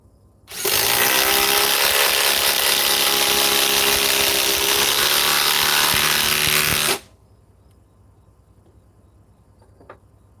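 A Ryobi power tool on an Edge battery whines at full speed for about six seconds in a loud, steady buzz, then cuts off abruptly into near silence.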